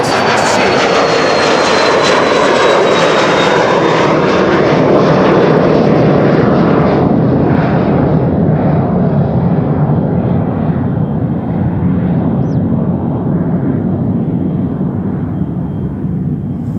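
A small Embraer Phenom jet climbs away from the Polderbaan runway at Amsterdam Schiphol, its loud engine roar building and then steadily fading with distance, with no talking.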